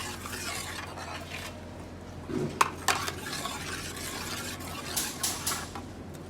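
Strained masala juices are mixed in a pot for biryani, with soft, steady stirring and a few light clinks and scrapes of a spoon against the pot, fairly quiet and without any talking.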